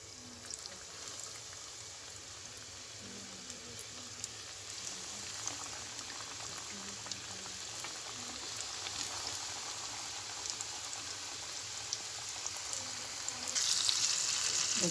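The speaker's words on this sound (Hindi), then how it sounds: "तो चलें अभी इसको डीप फ्राई करेंगे हम" Marinated chicken deep frying in hot oil gives a steady, dense sizzle and bubbling crackle that runs the whole time, close and even, with no voices.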